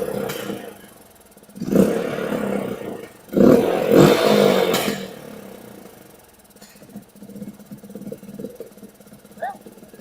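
A Suzuki QuadRunner 230 ATV engine runs roughly on its own, its uneven, sputtering note surging loudly in a couple of bursts before settling into a lumpy, fluctuating idle nearby.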